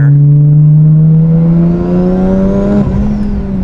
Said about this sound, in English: I never get tired of hearing that blow-off valve and hearing that turbo spool up.